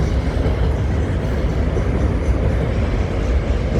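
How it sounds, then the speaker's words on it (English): A freight train passes close by at a UK station on the line to Leeds, a loud, steady rumble of rolling wagons with rail clatter that carries on throughout, no voices. "We also have a freight train that I almost missed."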